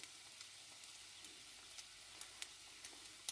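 A crab cake omelette sizzles and fries in a pan with a steady, soft crackling hiss and occasional small pops, heard close and alone.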